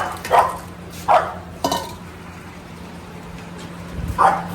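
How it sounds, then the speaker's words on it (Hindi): A dog barks in sharp, separate bursts at a dog hostel, four loud barks spaced a second or so apart over a low steady background hum. "देखो इसको भौंक रही है"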